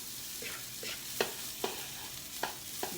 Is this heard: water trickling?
no